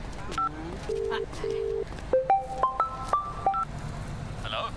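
A telephone is dialed, a series of short tonal beeps, a few spaced out and then several in a quicker run, sounding close and clear over a low background hum.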